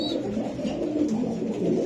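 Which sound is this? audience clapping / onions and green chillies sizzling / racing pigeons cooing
racing pigeons cooing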